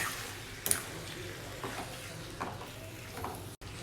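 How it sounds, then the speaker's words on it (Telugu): Mutton being stirred by hand with salt and turmeric: a soft, steady wet rustle and scrape with a couple of sharper clicks near the start, close and fairly quiet, with no voices. "పసుపు సాల్ట్ ఇదంతా కలిసేటట్టు బాగా మిక్స్ చేసుకోవాలండి"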